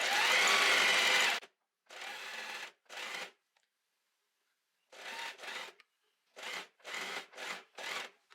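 A sewing machine stitches pyjama fabric in short bursts: one long run at the start, then several brief, rapid stretches of needle clatter separated by silent pauses.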